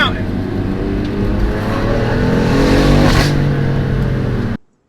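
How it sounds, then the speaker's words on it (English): A BMW F80 M3 drives on Palomar Mountain Road in the California countryside, its engine droning loud and close under sustained throttle with shifting revs before cutting off abruptly; a voice talks over it. "I rented this awesome F80 M3 to bomb around the California countryside"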